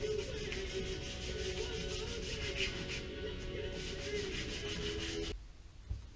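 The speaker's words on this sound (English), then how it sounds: "I'm now using 600 grit to just soften it a little more." Rhythmic rubbing strokes of 600 grit sandpaper softening a wood surface, steady and close for several seconds before stopping abruptly.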